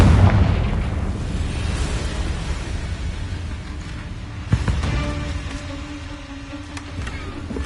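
A Confringo fire spell explodes in Hogwarts Legacy, a loud boom with a sharp burst near the middle over a dense, rumbling game soundscape, with no talk.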